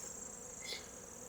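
Honey bees buzzing around an opened hive during beekeeping, a faint, steady high-pitched drone with one insect briefly louder as it passes near.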